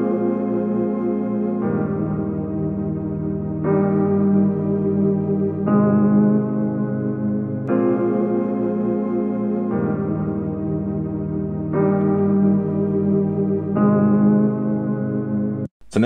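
Effected synth lead chords for a beat, processed through a Semantics plugin with echo, chorus and distortion, a steady loud sustained pattern changing chord every two seconds, with no voice over it.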